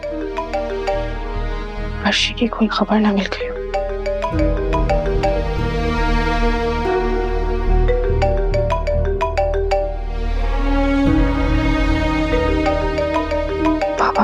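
Mobile phone ringing with an incoming call, a loud melodic ringtone repeating steadily throughout, close by, with someone speaking briefly over it near the start.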